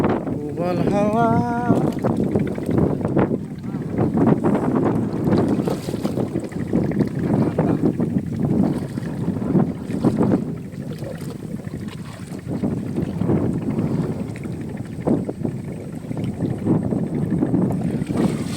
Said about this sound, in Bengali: সুন্দর বাতাস, দক্ষিণা বাতাস